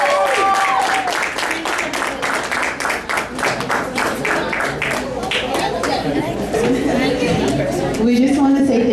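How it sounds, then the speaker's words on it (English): A crowd applauds a speaker invited on stage at a university organization event; steady clapping mixed with chatter and voices throughout, fairly loud and close. "Round of applause, please."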